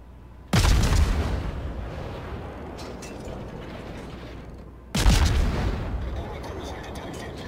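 Heavy naval guns in the World of Warships video game fire two loud, booming salvos about four seconds apart. Each blast is followed by a long rumbling decay under a low background hum.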